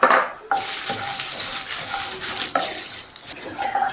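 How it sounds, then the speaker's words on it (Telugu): Red chillies and curry leaves stir-roasted in a pan on low flame, close up: a utensil repeatedly scrapes and clinks against the pan over a steady dry sizzle, with no talking. "ఇవన్నీ లో ఫ్లేమ్లో పెట్టుకొని ఇలా కలుపుతూ రోస్ట్ చేయాలన్నమాట"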